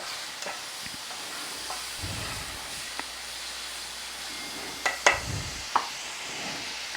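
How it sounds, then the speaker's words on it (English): Ground beef browning in a pan gives a soft, steady sizzle and hiss, broken by a few sharp pops and crackles of fat, close by and without talk. "it's that sound of those crispy grease fries getting done"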